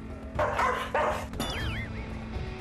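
A Pungsan dog barks twice in quick succession, loud and close, then gives a rising, wavering whine or yelp, with no talking.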